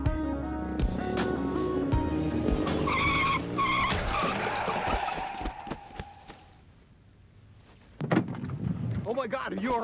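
A car skids out of control, tires screeching and engine straining loudly against wind roar, then the noise drops away before a jolt and a shaky, close voice.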